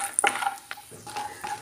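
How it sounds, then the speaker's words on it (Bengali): Lentil badi fry in oil with salt and turmeric, a soft sizzle punctuated by a few quick clinks and scrapes of a spoon against the pan, close and brief, with no speech. "বড়িগুলো আমি সুন্দরভাবে তেলের মধ্যে আগে ভালো করে ভেড়ে চেড়ে নুন হলুদ দিয়ে ভেজে নেব।"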